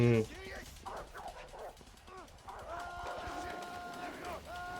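Short bursts of dog barking and yipping from the video game A Way Out, layered over game music with sustained tones; a loud thump opens it.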